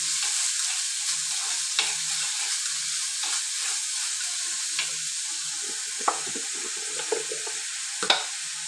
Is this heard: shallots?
yes